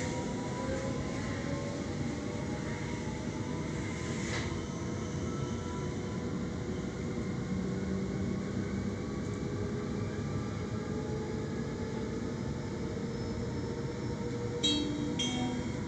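Steady rumble of a Sydney Waratah electric train running on the T5 line toward Schofields, continuous broadband rolling noise with faint motor tones, a few brief squeaks near the end.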